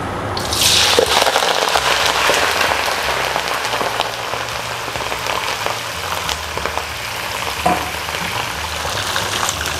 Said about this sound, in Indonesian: Kita goreng sampai benar-benar garing, tapi jangan sampai gosong ya.